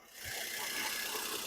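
A Maruti Wagon R tall-boy hatchback runs with its engine at a steady idle, making a constant broadband rumble and hiss at close range with no break.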